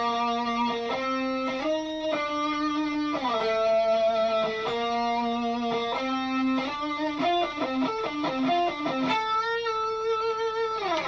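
Distorted electric guitar plays the second part of a song, a busy riff of shifting bent notes and quick runs over about eleven seconds, loud and alone.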